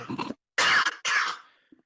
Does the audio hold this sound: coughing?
yes